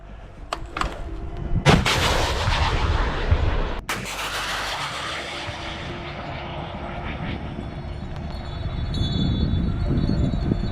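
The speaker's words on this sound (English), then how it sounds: "Выстрел!" Artillery gunshot at a position in the Kursk border area, heard as a sharp, loud blast near the start followed by a second heavy boom, then a long rumbling roar that trails off under distant engine-like noise.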